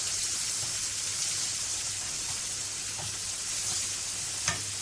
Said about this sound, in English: So put your onions in, okay, give them a mix.